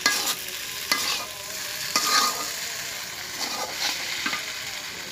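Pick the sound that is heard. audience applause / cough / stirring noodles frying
stirring noodles frying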